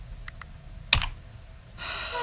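The box of a DJI Osmo Pocket 3 camera is opened up close, with a few light taps, a sharp cardboard snap and then a soft rustling slide as the lid comes away.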